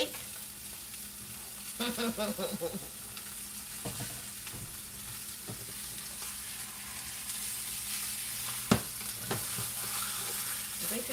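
Steak sizzles in a hot pan with a faint, steady crackle and an occasional utensil clink, while a voice briefly speaks.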